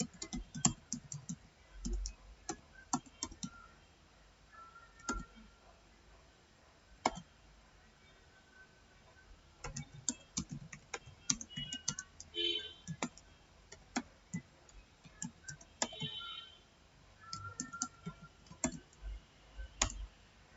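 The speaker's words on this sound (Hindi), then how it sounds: "तो हम लोग वही टाइप करेंगे यहाँ पे" Irregular bursts of clicky keystrokes on a computer keyboard, close and fairly quiet, with pauses between runs of typing and occasional louder taps.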